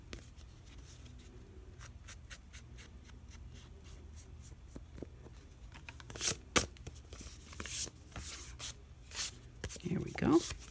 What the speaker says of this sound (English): I want to really kind of distress up this little bottom strip of file folder